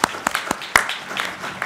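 Applause from a conference audience at a robotics ethics kick-off meeting, sparse and uneven with a few sharp distinct claps standing out over a thinner scattering of hands, brief and moderately close.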